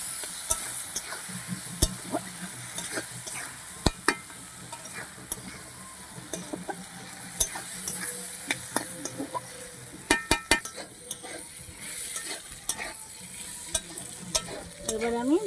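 Soaked Badshabhog rice frying with potatoes in a pan, a steady sizzle broken by frequent sharp clinks and scrapes of a spatula stirring against the metal, close and fairly loud throughout.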